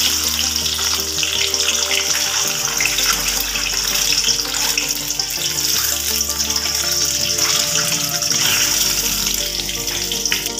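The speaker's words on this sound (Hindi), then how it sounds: "और अब हमने अपने अंडों को इसमें हल्का सा फ्राई कर लेना है।" Eggs fry in vegetable oil in a kadai with a loud, continuous crackling sizzle and a low hum beneath it, steady throughout with no talking.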